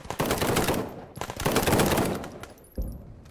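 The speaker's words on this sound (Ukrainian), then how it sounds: "чути постріли, але от не можна, ну, дуже-дуже важко зрозуміти, звідки ці постріли" Rapid bursts of automatic gunfire ring out in the Ukrainian war shooter Glory To The Heroes, two long loud volleys of rattling shots followed by a single sharper report near the end.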